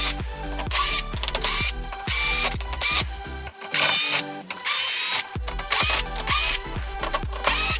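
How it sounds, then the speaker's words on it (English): Loud power tool bursts with ratcheting whir back out screws from the lower lip of a VW MK7 GTI, repeated short runs with brief pauses between them, close and alone. "I'm gonna take all these screws out and pretty much yank this thing off"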